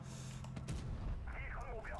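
A heavy cannon blast from a WZ-120-1G FT tank destroyer in a video game booms through a continuous rumbling engine drone, followed by a rising mechanical whine.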